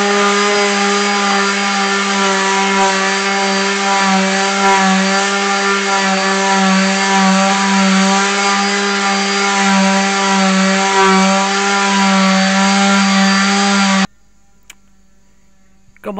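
Sanding machine working wood in a restoration workshop, a loud steady buzzing drone held continuously for about fourteen seconds before cutting off abruptly into near silence.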